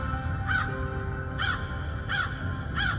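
A thirsty, exhausted crow caws four times in a steady, evenly spaced series, each call loud and harsh over a constant low background hum.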